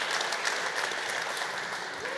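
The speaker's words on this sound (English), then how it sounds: "one big hand of applause for Sebastiaan" Conference audience applauding a speaker after a talk, a dense even patter of clapping heard from a moderate distance, fairly quiet and unbroken for a couple of seconds.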